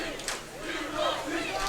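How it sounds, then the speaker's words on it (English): Crowd cheering at a men's water polo match between Pacific and UC Irvine, a broad swelling roar from the stands with shouts rising in bursts over a short stretch. "Crowd getting into it now, looking for a Tiger rally."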